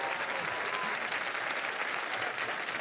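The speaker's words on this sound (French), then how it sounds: "On peut vraiment les applaudir." Sustained applause from a live TV music-show audience after a tribute performance, a dense, steady wash of clapping throughout with no break.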